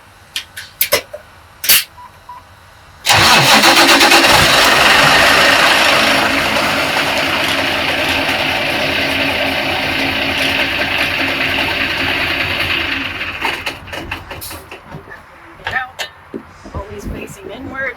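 A truck engine cranks and catches abruptly, then settles into a loud, steady diesel idle while it warms up. The idle fades and stops after about ten seconds, followed by scattered clicks and small handling noises nearby.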